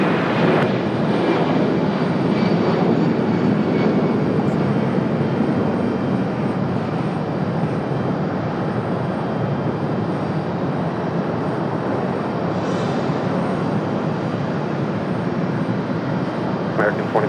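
A large airliner arriving on runway 23 right at Raleigh-Durham International Airport gives off a steady, loud engine roar that holds throughout, with a voice talking over it.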